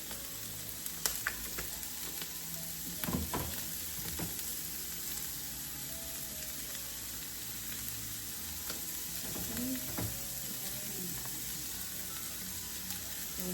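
Perogies sizzle steadily in a pan with pepper, oregano and Italian seasoning, a constant close frying hiss with occasional scrape and stir clicks, no talking.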